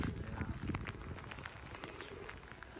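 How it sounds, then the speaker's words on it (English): Light rain beginning to fall outdoors on an Alaska Dall sheep hunt, a soft steady patter of drops with scattered ticks and crackles close by, no talking. "It just started raining."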